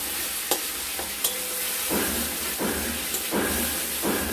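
Masala is sautéed in a pan under a loud, steady hiss of frying, with repeated scraping stir strokes and occasional spoon taps against the pan at an uneven rhythm.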